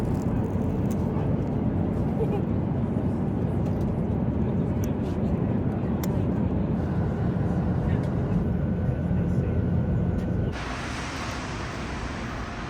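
Steady airplane cabin roar, a dense low rumble that holds constant and then drops to a slightly quieter, brighter hum near the end, with people talking quietly over it.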